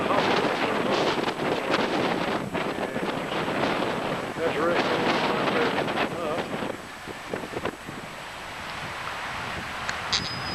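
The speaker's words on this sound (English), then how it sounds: "It's real windy." Strong wind buffets the microphone in loud, rumbling gusts, with a brief voice speaking under the roar.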